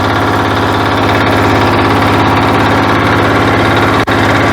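Weima Deluxe diesel walk-behind tractor engine running steadily at close range, a loud, continuous low throbbing idle with a fast regular beat and no talking.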